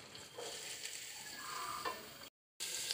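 Finely chopped capsicum frying in a pan for pav bhaji gives a faint, continuous sizzle with soft stirring scrapes, quiet and close, broken by a brief silent gap near the end.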